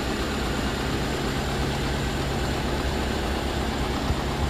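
Engine of a 2007 Suzuki Espass Zebra Master EFI with a stock factory engine, idling smoothly and steadily at close range with no one talking.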